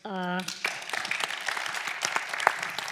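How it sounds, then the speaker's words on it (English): An audience at a drone industry conference session claps in a dense burst of applause, fairly close, right after a brief voice at the start. "please give an applause"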